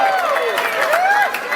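A crowd at a FlipTop rap battle for Deno cheers and whoops loudly, with high rising shouts and clapping in a brief, energetic burst.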